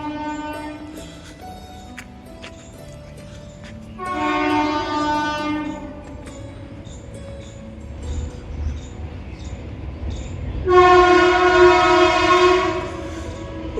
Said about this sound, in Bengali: আর ওখানে আছে ট্রেন লাইন, ওটাতে ট্রেন যায়, সামনে ট্রেন লাইন।